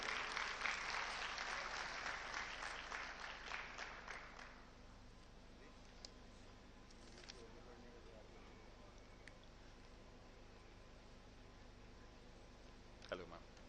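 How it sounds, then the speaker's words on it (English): An audience at a university event on stage applauds loudly for about four seconds, the clapping fading out into quiet room tone with a few faint thumps and clicks afterward. "round of applause for you"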